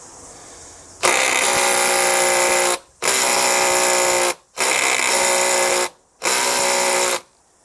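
A Makita 40V half-inch high-torque impact wrench drives into pressure-treated pine boards, stalling in the third board: four loud sustained bursts of about 1.5 seconds each, separated by short pauses, with no talking.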